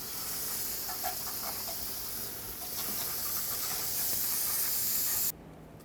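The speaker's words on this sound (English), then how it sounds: "is spray some brake parts cleaner all over to get rid of all the dust" An aerosol can of brake parts cleaner sprays over the dusty rear brake assembly and parking brake shoes of a Chevrolet Express 3500 van, a steady close hiss that runs several seconds and then stops sharply.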